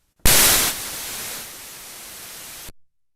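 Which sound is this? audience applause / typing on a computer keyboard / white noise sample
white noise sample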